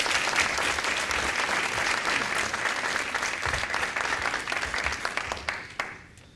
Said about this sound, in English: So please give a round of applause to Leon Washington.